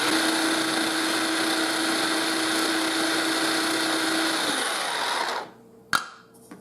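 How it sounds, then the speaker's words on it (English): A mini food processor chopping dill whirs loudly and steadily for about five seconds, then winds down and stops, followed by a short clatter. "I have all my dill in my mini processor. I'm going to turn it on and chop it till it's really fine"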